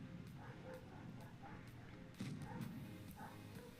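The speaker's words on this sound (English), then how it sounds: "There's a loud dog outside." A dog outdoors barks repeatedly in the distance, faint rhythmic barks under game sounds and a person talking.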